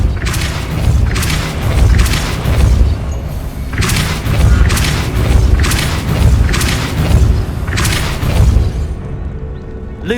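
Repeated Depulso force spells in Hogwarts Legacy land as a series of heavy booming thumps, about one every second or two, loud and continuous over a low background rumble.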